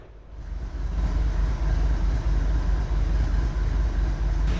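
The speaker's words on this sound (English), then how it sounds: "a grain train from Lima, Ohio, bound for Rocky Mount, North Carolina, with a KCS ES44 AC on the point" Grain train G713 in the Roblox game Train Chasers, led by a KCS ES44AC locomotive, rolls past with a steady, heavy low rumble that swells in and holds throughout.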